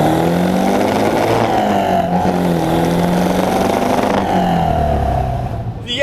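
A small-valve Lotus Europa engine of about 105 horsepower pulls hard under load, a loud, steady roar rising in pitch for several seconds before easing off near the end.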